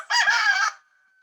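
A single loud chicken call from a backyard flock, one bright squawking burst lasting under a second, close by and heard alone.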